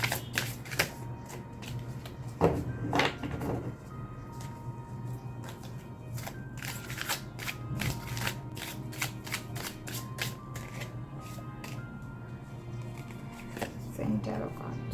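Zen tarot cards being shuffled close by, quick riffling and snapping bursts that come and go, with soft taps between and a faint hum beneath.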